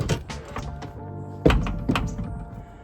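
A loose aftermarket car seat that isn't properly bolted down, held by only three bolts, gives a dull thunk as it is lifted, with softer knocks and rattles around it, close and fairly quiet.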